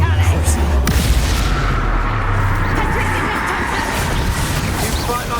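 A Bombarda blasting spell explodes during a Hogwarts Legacy battle as a loud, deep, rumbling boom with crashing debris that fills the whole stretch, while a voice speaks over the combat.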